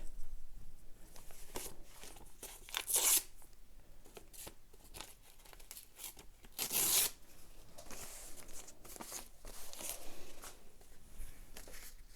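Painted red paper being torn by hand for a mixed media tulip collage: close, soft ripping and crinkling in irregular bursts, a couple of sharper tears standing out, with no talk.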